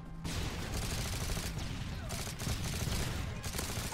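Continuous rapid gunfire in the Modern Warfare 3 video game on PC, dense and loud throughout with bursts overlapping in a chaotic firefight.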